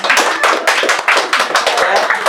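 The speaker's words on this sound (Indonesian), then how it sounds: "Tepuk tangan." Rhythmic clapping from a small group at a podcast gathering, close and loud, with quick bursts of claps in a patterned beat repeating steadily across the whole stretch.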